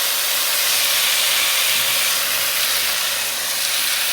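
Chopped tomatoes hit a pan of frying cumin powder and spices, giving a loud, steady hissing sizzle that runs unbroken and close throughout.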